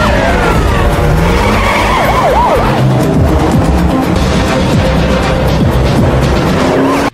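Racing cars roar and skid through a chase, tires squealing in wavering, swooping tones over a dense, loud engine rumble that never lets up, with a siren-like wail mixed in.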